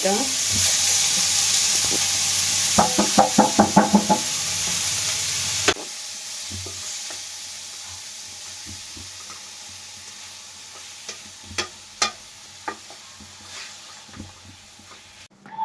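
Onions, capsicum and carrot hit hot oil with a sizzling hiss, followed by a burst of rapid stirring clatter, then a quieter steady fry with occasional scrapes and taps.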